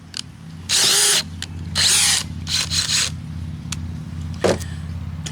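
A DeWalt Xtreme 12V subcompact drill bores into wood in several loud bursts, two longer spins followed by shorter pulses and a brief final rev, with quieter pauses between.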